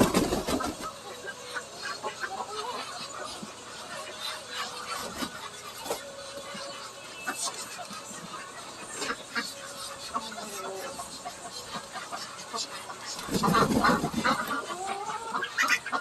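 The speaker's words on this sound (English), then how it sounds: "I'm getting bombarded with ducks." Ducks and chickens squabbling at feeding time in a backyard coop, a busy mix of quacks and clucks throughout, with a louder burst of flapping and calls near the end.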